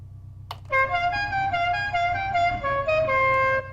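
A sustained car horn blares steadily for several seconds after a brief click, loud and close, with a low engine hum beneath, in the racing game Live for Speed.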